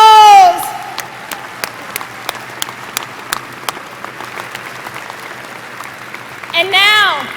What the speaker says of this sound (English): Family and friends, give yourselves a round of applause.